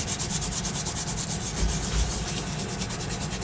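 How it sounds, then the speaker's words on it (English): Sandpaper scrubbing in circles over paint-covered magazine pages, a close, steady rasping rub with a rhythmic pulse and no voices. "when I use the sandpaper like this, I can do the circles"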